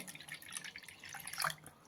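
Water is poured into freshly churned buttermilk in a kitchen, a short, quiet trickling and dripping splash with no voices.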